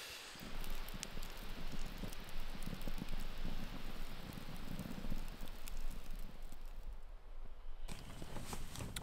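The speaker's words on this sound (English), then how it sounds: "hopefully do it between the raindrops, which have now returned" Rain falling at a lake campsite in fall: soft, continuous patter and hiss of drops on tarp and leaves, faint and steady, with a slight lull near the end and no talking.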